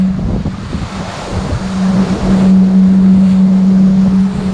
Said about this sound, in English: and the boat is singing. Whenever it gets excited, it starts vibrating.